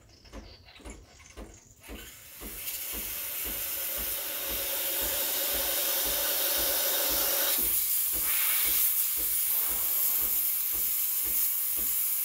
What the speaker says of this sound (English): The longer you wait, the stronger the steam will become.